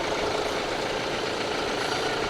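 A tractor engine runs steadily and loudly while it pushes against channel iron during land clearing, a continuous heavy rumble with no pauses or talk.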